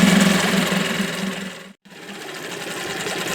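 A vintage 1976 Mercury 200 20hp outboard motor runs with a steady, fast buzzing chatter, loud and close. It cuts out briefly near the middle, then picks back up.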